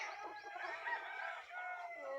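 Chickens on a small farm, a faint chorus of clucking and squawking fowl at a distance, continuous and overlapping with no talk.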